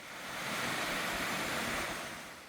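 Dumun Falls on a valley trekking trail in Inje pours in a steady, broadband rush of falling water, loud and continuous throughout with no voices.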